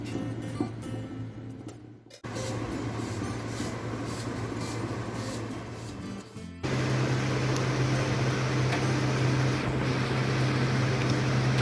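A microwave oven preset to 180 bakes pizza dough for a cheese burst or pan pizza, giving a steady low hum and fan whir that cuts out briefly twice and returns slightly louder, with no talking.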